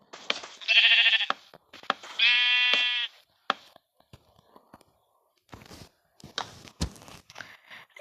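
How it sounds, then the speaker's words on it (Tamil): Sheep bleat twice in Minecraft, each a loud, sustained nasal cry, between soft clicks and quiet whispered talk. "ஹே ஆட்டுக்குட்டி விலகு."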